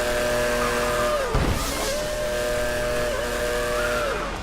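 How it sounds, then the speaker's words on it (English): High-pitched Formula 1 race car engine from the F1 2013 video game, set at Monaco, holding steady revs with a brief dip and recovery midway, loud and close with no talk. "revving isn't doing anything"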